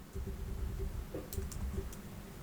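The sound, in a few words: typing on a computer keyboard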